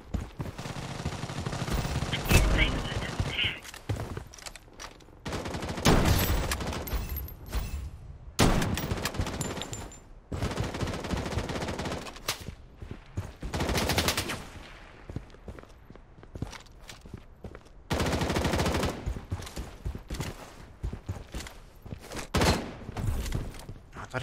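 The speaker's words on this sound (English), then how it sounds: "I thought he was shooting at me." Repeated bursts of gunfire from the BloodStrike shooter game, with rapid automatic volleys and single shots coming in loud clusters separated by brief gaps, some near and some more distant, with no talk.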